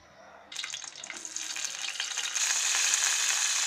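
Green chillies sizzle hard in hot oil, a sharp crackling hiss that bursts in after a quiet start and grows louder and denser, steady and close, with no talking.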